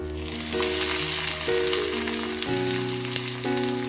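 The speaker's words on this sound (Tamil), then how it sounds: "இது பொரிஞ்சதுக்கப்புறம் நாம் வெங்காயத்தை போட்டுக்கலாம்" Onions dropped into hot oil with fennel seeds for an egg gravy masala, a loud, dense sizzle right up close that runs steadily throughout, with faint stirring and no voices.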